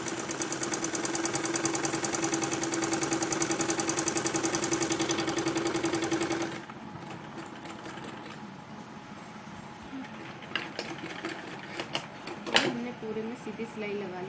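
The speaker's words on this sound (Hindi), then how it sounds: "सीधी सिलाई लगा ली है।" A sewing machine running steadily stitching a kurti lining, a dense loud mechanical whir for about six seconds, then it stops and leaves quiet handling noise with a few light clicks while someone speaks.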